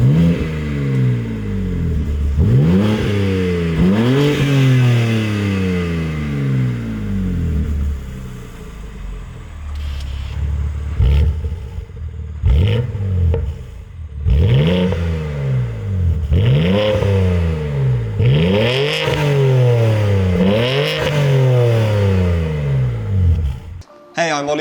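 A BMW G82 M4 with a Quicksilver quad-exit valved performance exhaust revs hard over and over, deep rising blips followed by crackles, loud and close, with short pauses between pulls.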